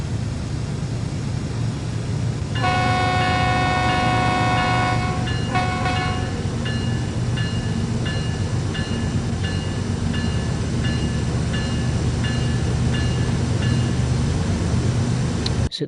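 Freight train rolling through Cajon Pass in Train Sim World 3, a steady loud rumble of engine and wheels with a sustained multi-tone horn blast early on, then repeated short horn-like tones over the continuous drone.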